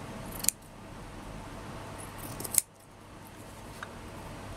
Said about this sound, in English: I will trim off any edges.